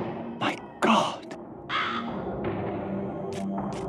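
Crow caws echo through ruined stone halls in the Legacy of Kain: Soul Reaver video game, several harsh calls over a steady droning ambient game soundtrack.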